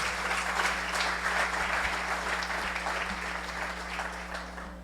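Sustained applause from a crowd, a dense steady patter of clapping that holds at an even level throughout, with no voices on top.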